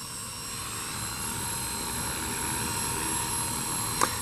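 Helicopter hovering over one spot during a beginner flying lesson, a steady broadband rotor and engine roar holding constant throughout, with a brief sharp click near the end and no talking.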